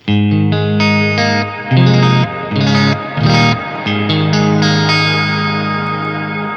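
Sustained clean ambient electric guitar chords through a Neural DSP Nano Cortex ring out with chorus and echo effects, played in swelling, overlapping strums that hang in a spacious, ambient wash.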